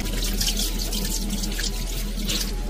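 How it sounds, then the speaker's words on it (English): Tap water runs steadily into a sink while hands are rinsed during handwashing, a continuous close splashing flow with no pauses. "Now rinse it thoroughly with water."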